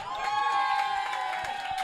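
An audience on a French dating show cheers and claps for a woman, with a steady crowd roar and a sustained tonal whoop over scattered clapping.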